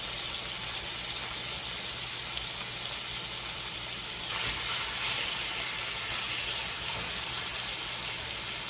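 Food simmers in a pan over an outdoor fire near a river waterfall, giving a steady, soft sizzle and hiss that swells briefly in the middle and keeps going to the end.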